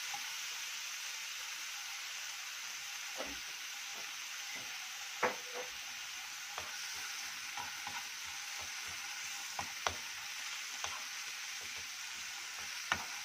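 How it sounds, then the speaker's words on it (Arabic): Garlic frying in about two spoonfuls of oil in a home kitchen, a steady soft sizzle broken by occasional light clicks and stirring knocks of a utensil against the pan. "معلقتين حلوين كده ونحمر في الثوم، بس ايه ياخدوا لون اصفر بس"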